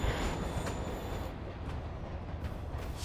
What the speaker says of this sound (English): Train moving.